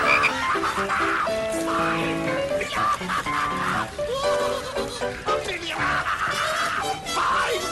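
A chorus of frogs croaks loudly and continuously, many overlapping calls in a dense, rhythmic racket close by.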